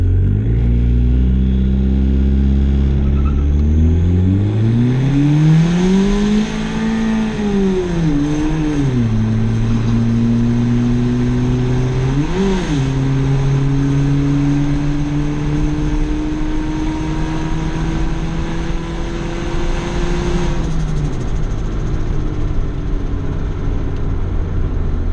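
A $500 turbocharged car launches hard on a quarter-mile run, its engine droning loud and close as it climbs through several gear changes, revs sweeping up then dropping at each shift, with a steady roar holding through to the end.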